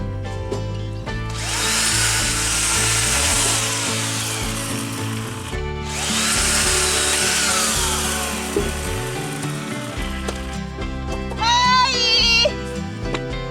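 Firewood being sawn in the countryside, with two long, loud, close cutting runs separated by a brief pause, then quieter clattering afterward.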